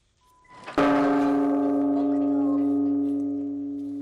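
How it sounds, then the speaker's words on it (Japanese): A memorial bell at Yamagata City Hall is struck once, a loud deep ringing toll that blooms after a soft lead-in and hangs with a long, slowly fading resonant hum. "山形市役所では犠牲者を追悼し被災地の復興を願う鐘が打ち"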